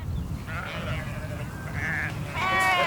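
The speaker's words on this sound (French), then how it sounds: "Ces moutons, par exemple, servent à l'étude de l'agriculture biologique." Sheep from a flock kept for organic farming research bleat several times at moderate distance, with a louder, closer bleat at the end over a low rumbling background.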